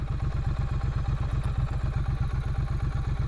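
A 2016 Triumph Street Twin motorcycle idles in neutral on gravel, close up and fairly loud. Its low engine beat thumps in a fast, even rhythm, with no voices.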